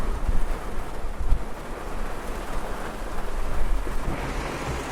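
Heavy rain drums on the roof of a Honda Brio RS car as heard from inside the cabin, a steady, dense hiss with low rumbling thuds, moderately loud and unbroken, with no voices.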